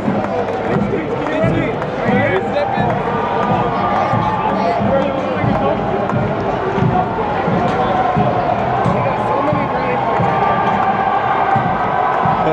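Loud, continuous crowd cheering and festive hubbub fill the street at New York's St. Patrick's Day parade, a dense wash of voices and shouts with no break.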